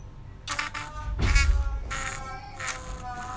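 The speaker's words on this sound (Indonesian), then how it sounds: "itu adalah suara ketika kalah" A short electronic losing jingle from a PyQt5 TicTacToe desktop game plays in a few separate tonal bursts with a low thump partway through, at a moderate level and with no talking.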